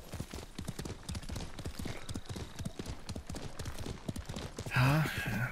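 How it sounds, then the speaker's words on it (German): Horse hooves galloping in the samurai video game Ghost of Tsushima, a rapid, even clip-clop rhythm close by, ending with a brief whinny-like tone, with no talking. "Du bist ein braves Pferd, Nobu."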